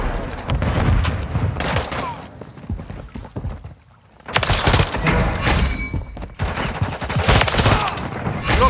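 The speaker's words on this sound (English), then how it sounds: "Stun grenade out." A stun grenade explodes in Modern Warfare 3 multiplayer amid hectic gunfire, with a sharp blast after a brief lull followed by rapid shots and thuds close by.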